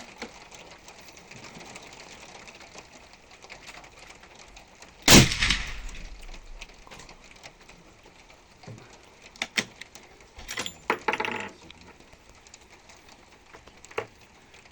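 Single loud, sharp rifle shot from a .338 Lapua Magnum fired with a Discovery ED PRS 5-25x56 scope, cracking out abruptly amid quiet outdoor ambience, followed by faint clicks and rustling.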